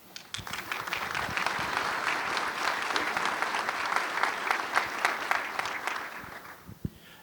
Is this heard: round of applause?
yes